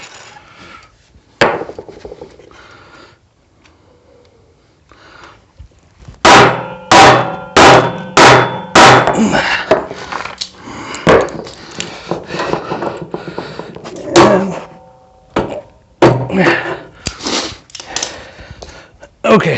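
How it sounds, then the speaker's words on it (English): A bolt on a Honda GX160 plate compactor takes a quick burst of sharp metallic hammer blows close by, followed by scattered lighter knocks and clanks, with someone talking between strikes. "this bolt we'll pound in a little more"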